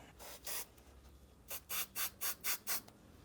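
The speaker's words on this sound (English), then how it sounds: "we're going to clean this to get some of the gunk off" Wiping gunk off a hiker trailer part with 91% rubbing alcohol: two quick rubbing strokes, a pause, then six rhythmic back-and-forth scrubs, close but quiet, with no talking.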